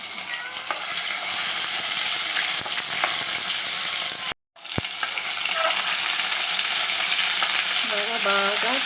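Ginger garlic paste sizzles and fries steadily in hot oil with whole spices, a dense continuous crackle with a few sharp pops and stirring clinks, broken by one very brief gap midway.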